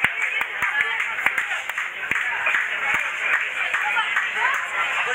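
Audience clapping fills a rockabilly dance night at the HopHead craft beer pub, a steady dense patter of many hands with sharper claps scattered through it, continuous and fairly loud for the whole stretch.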